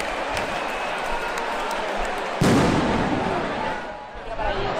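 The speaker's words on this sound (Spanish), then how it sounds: "el ruido de los petardos" A dense crackle of firecrackers popping continuously at the San Juan bonfire festival, with a louder nearby blast partway through amid the roar of an outdoor crowd.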